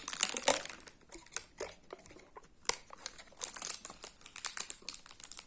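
Protective wrapping is pulled off a vitamin container, making close, quiet crinkling and tearing with irregular bursts of plastic rustle and a few sharp crackles, with no talk over it.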